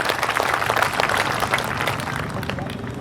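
An audience at a talk on naming the new parliament building after Dr. Babasaheb Ambedkar claps loudly in a dense, steady round, with a murmur of crowd voices mixed underneath.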